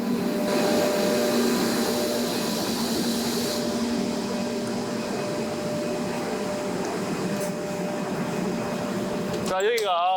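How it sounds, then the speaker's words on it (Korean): An automatic frosting machine for etching glass runs with a loud, steady mechanical roar and airy hiss, a dense continuous drone that holds through to an abrupt shift near the end. "지금 자동 서리 기계로 넘어가서 이제 마무리, 가공 작업, 최종 가공 작업이 이제 진행될 겁니다"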